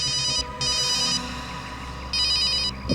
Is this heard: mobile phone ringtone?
yes